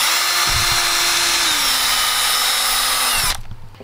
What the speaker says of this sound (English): drill a hole going this direction.